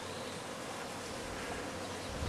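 Honey bees buzz steadily around a backyard hive, a dense, continuous insect drone that holds close and even throughout with no voices.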